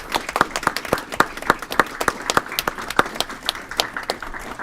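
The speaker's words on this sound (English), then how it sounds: "let's give all three, Michelle Clark, Theodore, and Jesua, a round of applause" A few people at a committee of the whole meeting clap in a sparse round of applause, with distinct, separate claps in a loose rhythm and fairly close, nobody talking over it.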